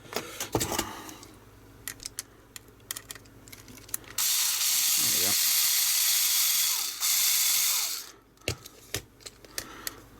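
A tiny screwdriver working screws out of a Sega Game Gear TV Tuner during a teardown, making scattered small ratcheting clicks, with a steady hissing stretch in the middle before the clicks return.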